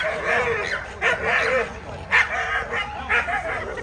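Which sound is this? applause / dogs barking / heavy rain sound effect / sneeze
dogs barking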